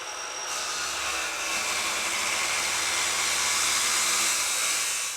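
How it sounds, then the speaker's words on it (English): An old chop saw fitted with a metal-cutting blade bites through metal pieces, giving a loud, sustained, harsh grinding whine that holds steady for several seconds with no talk. "I'm just cutting them up on an old chop saw that I have here with a metal blade on it."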